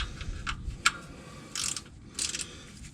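A ratchet wrench clicks in short bursts while snugging a bolt during an oil and filter change on a Honda Ridgeline, the quick ratcheting ticks close and fairly quiet.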